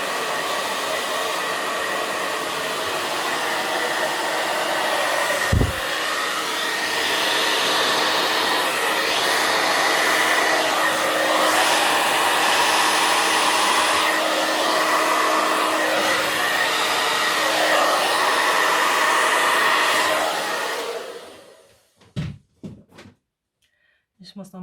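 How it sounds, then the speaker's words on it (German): A hair dryer blows loud and steady over black acrylic pour paint with metallic pigments, a continuous whooshing drone for about twenty seconds, then switches off followed by a few soft knocks and handling sounds. "Ich nehme jetzt erstmal den Föhn, das wird ein bisschen laut."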